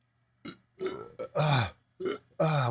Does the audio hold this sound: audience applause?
no